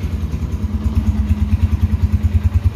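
A 2007 motorcycle warms up at idle, its engine giving a steady, loud, close, low thumping pulse with a mid-pitched drone running underneath.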